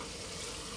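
Spiced meat with garam masala fries in a pan while being stirred, giving a close, continuous sizzle.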